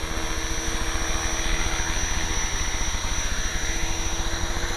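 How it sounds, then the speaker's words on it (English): A small British helicopter setting down, its rotor thumping in a steady rapid beat under a constant engine whine, loud and near throughout. "So I'm going to set down my pretty little British helicopter."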